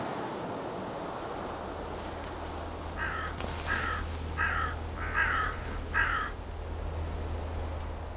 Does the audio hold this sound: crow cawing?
yes